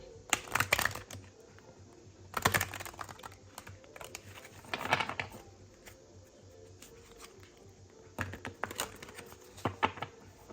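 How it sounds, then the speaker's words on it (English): Tarot cards riffle and patter in quick bursts, several rounds of shuffling separated by short pauses, close and crisp with no talking. "Let's go ahead and shuffle these beautiful blue cards."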